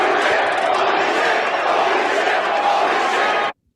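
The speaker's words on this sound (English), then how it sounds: "Everybody cheer." A crowd roars and cheers loudly in one continuous wall of shouting and whooping that cuts off abruptly at the end.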